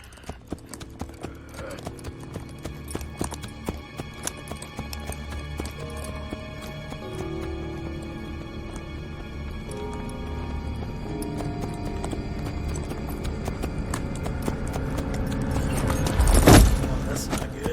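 Horse galloping in Assassin's Creed Brotherhood, a rapid, continuous clip-clop of hooves running the whole time, with a neigh near the end and game music and faint voices underneath.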